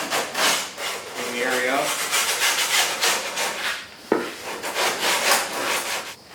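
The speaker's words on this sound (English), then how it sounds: "So now I'm just running through this with a little bit of 40 grit and paint stick." Rhythmic back-and-forth rubbing of 40 grit sandpaper wrapped on a paint stick during headlight brace repair on a 1977 Corvette, quick repeated strokes close up, with a brief spoken remark and a sharp knock partway through.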